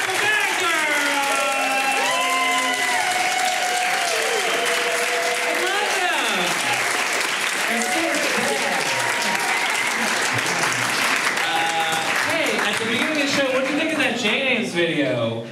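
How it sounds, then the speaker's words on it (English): Loud applause and cheering from a comedy show audience fill the room for the whole stretch, with whoops rising over steady clapping while a host's voice and music-like tones run on top. "Hey, give it up for Bad Girrlz!"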